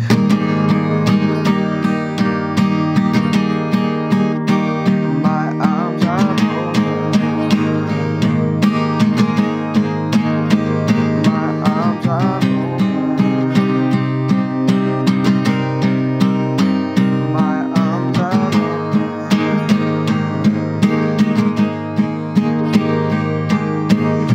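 Acoustic guitar strums chords in a steady rhythm, full and close, playing alone without any voice.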